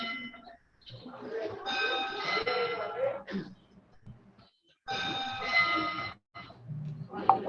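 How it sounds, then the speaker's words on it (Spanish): Bell chimes ringing during a Zoom Bible study meeting, sounding in two longer stretches of sustained tonal ringing separated by brief gaps, faint and mixed with background noise and voices. "Están las campanadas ahí."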